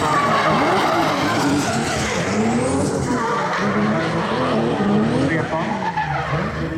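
Drift cars skid sideways around a race track at a drift championship event, tires squealing continuously over loud, sustained engine roar with rising and falling revs, close and steady throughout.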